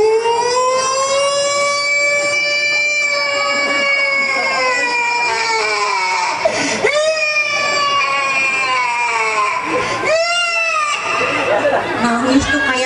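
A voice imitates a four-year-old child's crying as a rising and falling siren wail, loud and sustained over about thirteen seconds with a couple of swoops.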